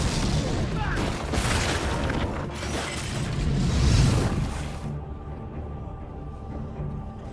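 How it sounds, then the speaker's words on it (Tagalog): A huge, rumbling action-movie explosion roars with deep booming and crackling debris, then cuts off abruptly to a quieter, low rumble. "isang napakalakas na pagsabog ang yumanig sa buong lugar"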